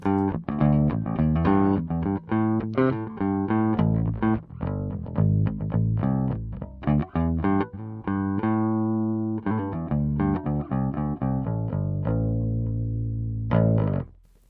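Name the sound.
bass guitar through Boss GX-100 bass amp model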